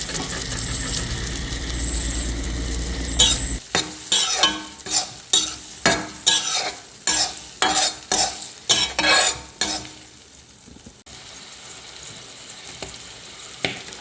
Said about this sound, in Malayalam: ഒന്ന് വഴന്നതിന് ശേഷം നമ്മൾ നേരത്തെ ജസ്റ്റ് ഒന്ന് ഫ്രൈ ചെയ്ത് വെച്ചിരിക്കുന്ന കാന്താരിമുളക് അതിനകത്തേക്ക് ഇട്ട് കൊടുക്കുക